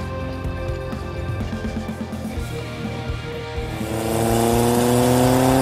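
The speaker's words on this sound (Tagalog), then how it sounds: "Ibang klase talaga tunog ng motor mo, Pops. Pang big bike talaga eh." A big bike motorcycle idles with a throbbing, pulsing engine note, then revs up into a louder, rising whine close by, with no talking.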